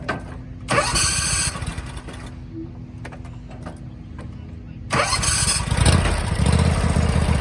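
A lawn tractor is started twice. Each time a small engine cranks and catches into a loud, rough running roar. Between the two starts it falls back to a quieter low hum with scattered clicks.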